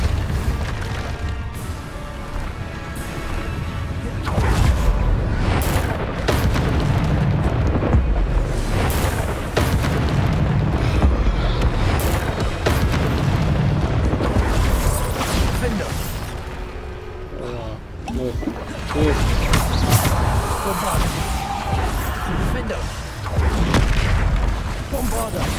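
Bombarda spell explosions go off repeatedly during fast combat in the video game Hogwarts Legacy, deep booming blasts layered with battle effects and music, with someone talking over parts of the action.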